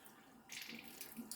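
Water splashing and trickling briefly into a small airlock for home-brewed beer, a short close burst of running water like a tap filling, no talk.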